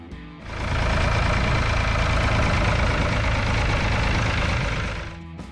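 A Ford 3000 utility tractor engine, introduced in 1965, idles close by with a loud, steady low rumble and knocking chug that starts up and fades away at the end.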